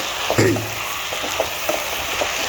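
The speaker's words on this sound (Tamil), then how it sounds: "இதை நல்லா இப்படி நம்ம கிளறி விட்டு கொஞ்சம் நேரம் வேக வச்சுட்டு" Drumstick leaves frying in a pan give a steady close sizzle and hiss, with a few soft scrapes and clinks of a spoon stirring them; no talking.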